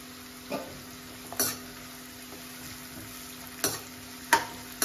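Green chillies fry in a pan with a faint steady sizzle, broken by a few sharp scraping stirs of a spatula against the metal.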